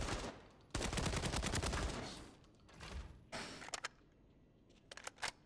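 A gun fires in Arena Breakout Infinite, loaded with 855 ammo: loud, rapid automatic bursts up close, a long sustained burst followed by shorter volleys and a few scattered single shots.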